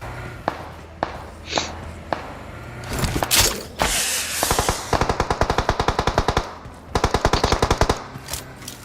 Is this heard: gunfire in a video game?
yes